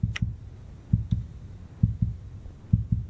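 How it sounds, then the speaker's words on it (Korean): Heartbeat in the horror game Backrooms: Escape Together, a steady double-thump pulse repeating about every second, deep and close, with no talking over it. "심장 소리 뭐야?"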